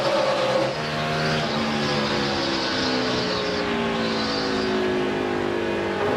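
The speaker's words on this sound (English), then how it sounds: "Biffle in a 16, he drove it down into turn 3 that time." NASCAR stock cars race around a short track at night, with loud, sustained engine roar from several cars and rising and falling pitch as they pass and accelerate through the turns.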